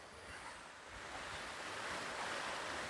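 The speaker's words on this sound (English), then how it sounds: "a 60-foot cascading waterfall with multiple platforms" A 60-foot cascading waterfall with multiple platforms at Station Cove Falls, Oconee Station State Historical Site, gives a steady, soft rushing roar, heard at a distance and fairly faint, with no talking.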